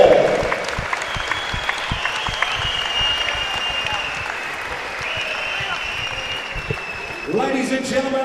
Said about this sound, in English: a big round of applause to both fighters for an absolute war